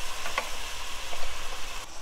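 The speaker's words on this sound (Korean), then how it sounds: "그렇게 국물도 좀 붓고." Hanwoo beef bulgogi sizzles in a pan as broth is poured in, a loud, continuous hiss and crackle close to the listener.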